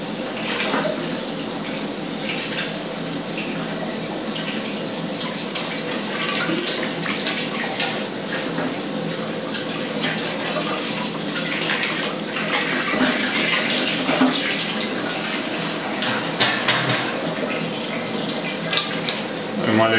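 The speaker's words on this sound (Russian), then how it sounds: "Маленько воды добавлю" Cold tap water runs steadily into a vessel during home single-malt whisky brewing, a continuous close gush with splashing, while a voice speaks intermittently over it.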